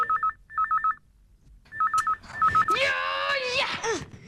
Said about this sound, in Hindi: एक मिनट, चंदू का फोन।